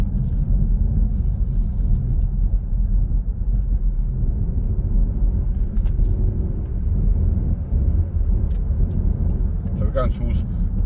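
A car drives along a road, with a steady loud engine and tyre rumble throughout and no clear breaks.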